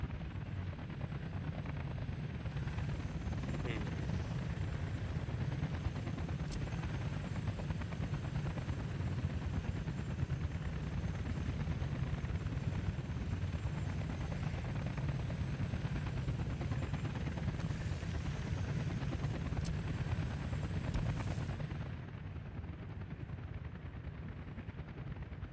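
A helicopter in Workers & Resources: Soviet Republic gives a steady, moderately distant rotor drone that runs unbroken for the whole stretch, easing slightly near the end, with a few faint sharp ticks on top.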